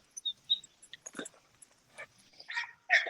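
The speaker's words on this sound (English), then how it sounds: "he's a good old dog." An American pit bull terrier barks in a yard with a few short, sharp barks near the end, after quieter snuffling and shuffling sounds.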